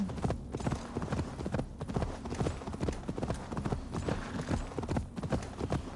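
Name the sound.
horse hooves galloping in video game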